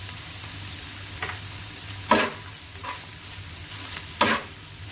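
Keema cooks in oil in a pan over a low-to-medium flame for a spicy tawa qeema, giving a steady soft sizzle broken by a few louder stirring scrapes at intervals, with no talking.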